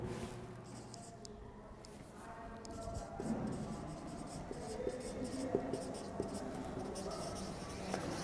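A teacher writes on a classroom board during an accounting lesson, making light, steady scratching and tapping strokes in short bursts at close range over a quiet room.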